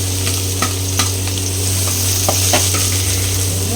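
Chopped onions with chillies sizzle steadily in a hot pan for an amaranth greens stir-fry, a continuous frying hiss with occasional scrapes and stirs of a utensil.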